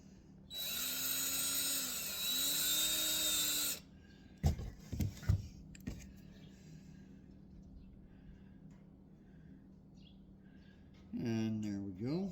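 A power drill widens a hole in a wooden firewood measuring stick. It gives a loud, steady whine for about three seconds with slight dips in pitch, then a few sharp clicks and handling knocks, then another short burst of the drill near the end.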